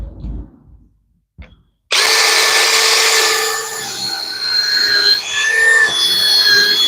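After a few quiet knocks, a power drill starts up loudly and grinds steadily, its pitch wavering as it bores into a willow tree stump.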